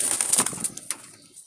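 A male wild Jalali pigeon gives a brief, close coo lasting little more than a second, with a soft fluttery edge before it fades.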